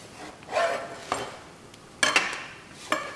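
A knife slicing buttered sliced bread into triangles on a board, several separate crisp cuts and taps spaced out at a steady pace, close and clear with no talking.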